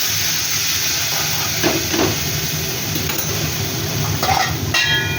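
Water added to a hot pan of fish curry with turmeric and oil sends up a loud, continuous steaming hiss that holds steady throughout, with faint clinks on top.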